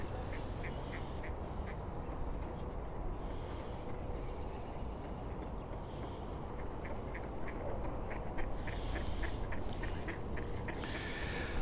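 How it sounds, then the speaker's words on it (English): Many ducks quack steadily at a duck park pond on a mild day, with repeated calls rising and falling over a constant outdoor wash of wind and water. "there's a lot of ducks out"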